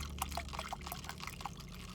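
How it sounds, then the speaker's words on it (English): Water sloshes and splashes in quick, faint, irregular bursts over a low rumbling background, close but quiet, with no talk. "Why is this water just flopping everywhere?"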